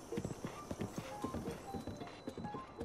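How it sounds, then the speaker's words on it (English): Horse hooves clip-clopping at a steady riding pace in Zelda: Breath of the Wild on Wii U, a quick regular drumming of hoofbeats over soft game ambience. "We can let the horse do the work, we can just spur her on,"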